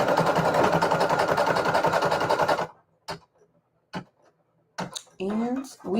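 An embroidery machine stitches a design with a rapid, rhythmic mechanical chatter that stops abruptly, followed by a few scattered clicks and a brief burst of talking.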